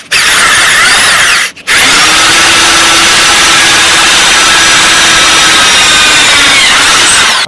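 A power drill bores through a custom off-road scooter deck with welded bracing, whining loud and close, pausing briefly once before driving on steadily to the end, with no talking.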